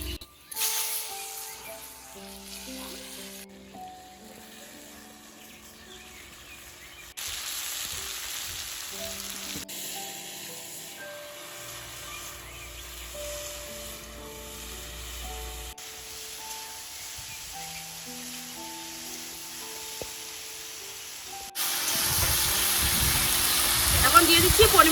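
Jujube berries frying in hot mustard oil with dried red chillies and five-spice seeds for a village-style pickle, a soft sizzle and hiss that grows louder toward the end, heard beneath someone talking.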